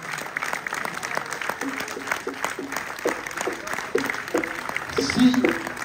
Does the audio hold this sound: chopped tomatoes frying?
no